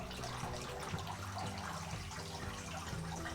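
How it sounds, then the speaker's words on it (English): Water drips and splashes through a perforated plate with large holes during a brewing sparge test, a dense continuous patter of drops landing across a wide area, close and fairly quiet. "A large hole seems to be giving much better dispersion here, with drops landing in quite a wide range of places."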